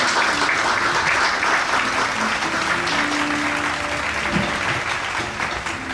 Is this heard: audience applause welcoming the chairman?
yes